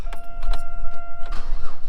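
A car engine cranking over with a jump pack attached, loud rapid starter churning with short bursts and mechanical clicks close by, no voices.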